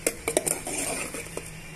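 A ground onion and tomato paste is stirred into a hot tempering in a cooking pot, giving a few close metallic scrapes and clinks of a spoon against the pot at the start, then a soft, steady background.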